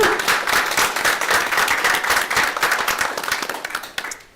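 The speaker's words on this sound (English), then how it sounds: "let's give a round of applause for that" Applause from a room of attendees at a school board of education meeting, many hands clapping steadily and fairly close for about four seconds before tapering off at the end.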